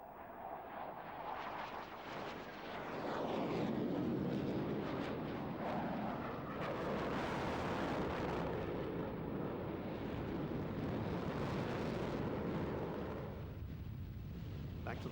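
Military jet with two large Saturn turbofan engines of nearly 28,000 pounds thrust each and afterburner at an air show, a deep rumbling roar that builds and holds, passing at a distance beneath commentary.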